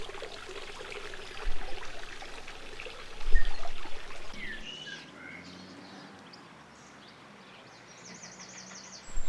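Water trickles and pours steadily into a small garden pond, a soft continuous babble with birds chirping in the background and some handling noise in between.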